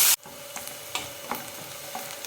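Finely chopped onion sautéing in a pan, a soft continuous sizzle with a few distinct scrapes and taps of a stirring spoon, close and fairly quiet, no voices.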